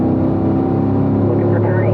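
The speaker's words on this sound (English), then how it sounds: "Wide open, full throttle there, Alan." Race car engine held at wide open full throttle on a road course, a loud steady harmonic drone that climbs slightly in pitch near the end, with a voice over it.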